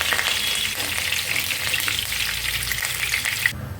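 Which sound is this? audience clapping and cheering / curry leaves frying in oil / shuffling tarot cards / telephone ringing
curry leaves frying in oil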